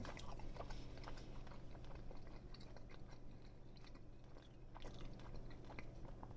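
Grilled trout being chewed close to the mouth, with soft repeated bites and wet mastication under a steady low background hum, no one speaking.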